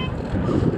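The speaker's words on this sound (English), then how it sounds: "Lots of wind." Strong wind buffets the microphone during a tandem bike ride on the island of Ameland, a steady low rumble lasting throughout with no clear speech.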